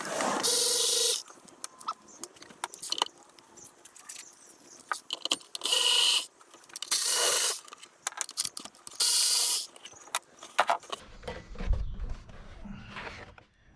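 Cover bolts come off a 2001 Acura MDX during starter replacement, with bursts of loud whirring from a power or pneumatic tool spinning them out, separated by metallic clicks, rattles and handling noise nearby.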